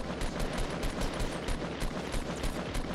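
Rapid, steady automatic SCAR fire in Fortnite Battle Royale, a loud, continuous stream of closely spaced shots running the whole stretch with no voice over it.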